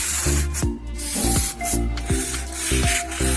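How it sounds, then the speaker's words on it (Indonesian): Sandpaper rubbing back and forth over a wooden door to remove old paint and varnish residue before varnishing, steady close scraping strokes with short pauses between passes. "diamplas sampai bersih dan halus"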